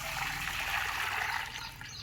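A steady stream of hot water pours and trickles continuously for a couple of seconds, close and fairly soft, without any voices.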